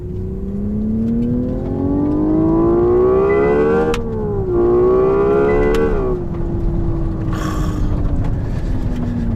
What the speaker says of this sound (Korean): 이 7600 RPM 정도 넘어갈 때 그 땡기면은 굉장히 그 내연기관에 가까운 질감이 확 드네요